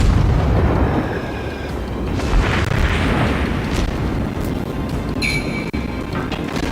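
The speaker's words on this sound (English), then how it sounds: "Double click, you fire a complete salvo, and that hit." A warship fires a full gun salvo in the video game World of Warships: heavy, rumbling cannon booms roll into a sustained explosive roar, loud and close, followed by sharper impact cracks near the end, with no voices.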